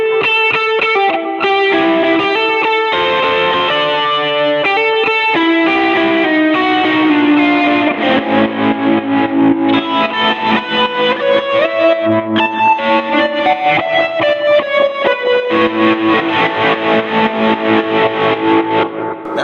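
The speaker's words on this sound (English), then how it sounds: "You can throw on a tube screamer on top of it, and you can do a liquefier. And then it sounds like this." Electric guitar through vintage amp models with a Tube Screamer and a Liquefier stacked on, giving a loud, continuously distorted, chorused tone that plays a busy riff with steady picked rhythm in its second half, with no talking.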